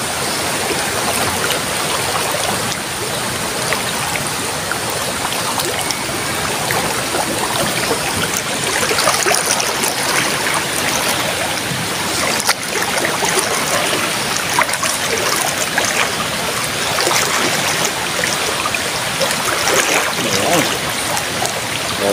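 Floodwater rushes past in a constant loud stream, a steady broad hiss and churn that fills the whole stretch, with faint voices now and then.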